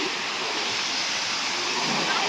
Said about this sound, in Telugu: చూడండి ఫుల్ ప్రెషర్ అంటే చాలా ప్రెషర్తో వస్తున్నాయి వాటర్ మొత్తం